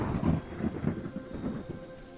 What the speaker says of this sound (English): Sounds like a thunderstorm.